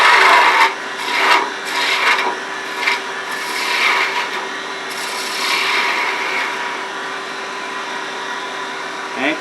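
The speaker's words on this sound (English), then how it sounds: "Now I'm going to pick up the cut with this 1/2 inch skew." Half-inch skew chisel peeling wood from a spinning blank on a lathe while turning a chess rook, giving a steady close rasping scrape with a few louder bursts as the cut is picked up.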